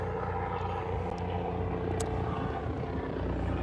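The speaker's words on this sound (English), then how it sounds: "what is going on with this helicopter?" A steady low rumbling drone of a helicopter flying over Brooklyn, New York, at moderate distance, holding constant without fading in or out, with faint background clicks.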